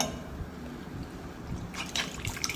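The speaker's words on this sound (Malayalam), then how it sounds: "റവയ്ക്ക് ആവശ്യമായ വെള്ളം ചേർക്കാം." Water pours and trickles into a pan of sautéed ingredients for rava upma, a soft liquid splash that grows slightly louder toward the end, with faint background hiss.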